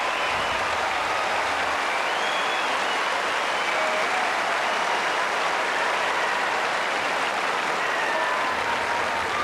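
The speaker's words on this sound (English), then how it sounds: "And the crowd going absolutely wild inside court number 1 here." A tennis crowd on Court No. 1 at Wimbledon roars and applauds wildly during a Sampras match against Goran Ivanisevic, a dense, sustained wash of clapping and cheering that fills the whole stretch without letup.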